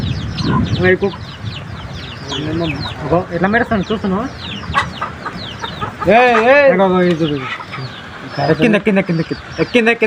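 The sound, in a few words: chickens clucking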